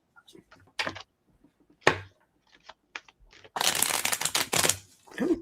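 Cards shuffled during an intuitive prediction reading: scattered light taps and a brief voice give way to a dense, loud riffling burst lasting over a second, then a short pause and a final flutter.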